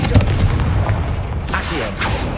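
A Confringo blasting spell from Hogwarts Legacy goes off as a loud, close explosive boom with a sharp crack at the start, followed by a dense rumbling tail.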